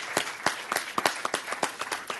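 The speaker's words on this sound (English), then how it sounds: "we should all applaud ourselves in that effort as we go forward" A small audience at a nuclear-free-zone gathering claps after a speech, fairly faint, scattered hand claps in an uneven patter that continues throughout.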